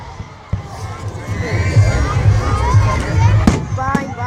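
Fireworks at an amusement park show go off in several sharp booms, including a strong bang near the start and another about three seconds later, over a lively crowd cheering, shouting and chattering.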